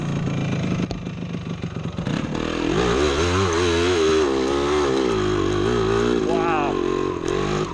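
Air-cooled 1975 Yamaha DT250 two-stroke dirt bike revving hard uphill in first gear without the clutch, a loud close engine climbing steadily in pitch with a rider's voice over it at the start.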